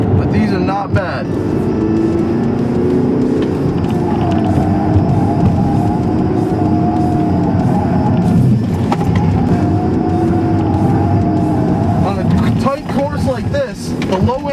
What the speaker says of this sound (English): A lot of understeer, a lot of tire noise coming.